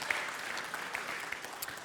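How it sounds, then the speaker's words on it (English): An audience at a sermon claps together in a short burst of steady applause, fairly close and moderately loud, without cheering. "show him a round of applause"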